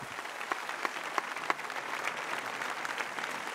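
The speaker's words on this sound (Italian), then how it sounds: "Ancora un applauso a questi musicisti." A theatre audience applauds musicians at an outdoor concert at the Teatro Antico di Taormina, a fairly distant, even wash of clapping with a few sharper claps standing out and no talk.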